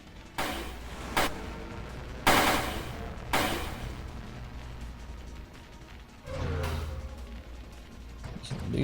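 Rapid bursts of spaceship weapon fire in the Nova Drift space shooter game, loud clustered volleys with sharp onsets and rumbling sustained stretches, separated by brief lulls.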